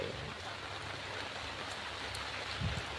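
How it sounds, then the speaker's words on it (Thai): Rain falls at night on a reservoir during a fishing trip, producing a steady, dense hiss of drops that continues evenly without pause. "ฝนตก"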